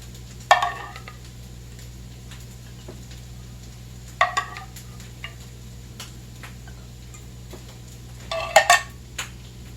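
A spoon scrapes and clinks as oil, animal fat or butter is portioned into each Yorkshire pudding baking pan, with three short bursts of metallic tapping spaced apart over a steady low hum.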